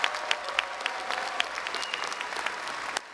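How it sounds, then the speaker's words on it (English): A crowd at a university commencement ceremony applauds steadily in a large hall, a dense wash of clapping that holds evenly before stopping abruptly. "Another round of applause."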